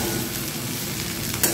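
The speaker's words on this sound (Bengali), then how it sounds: "পেঁয়াজগুলো আমার হালকা হয়ে গেছে ভাজা ভাজা।" Onions sizzle lightly in a pan while cooking bread bhelpuri, a steady close frying hiss throughout with a brief utensil scrape near the end.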